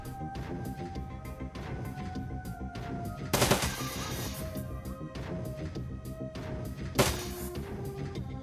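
Gunfire in the video game Shadowrun Dragonfall: rapid, steady gunshots running throughout, with two sharper, louder blasts standing out, with no talk over them.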